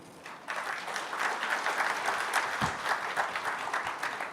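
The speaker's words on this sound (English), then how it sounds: "I would like to clap again for his wonderful speech." Audience applause breaks out after a speaker finishes at a Rohingya community stakeholders' dialogue in Cox's Bazar, a steady, dense clapping that swells and holds from half a second on.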